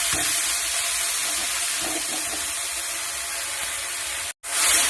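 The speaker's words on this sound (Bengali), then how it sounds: "এর উপরে খেসারি শাকটা দিয়ে দেবো।" Khesari greens go into a pan over already fried ingredients, producing a dense, steady frying hiss that cuts out briefly near the end before resuming.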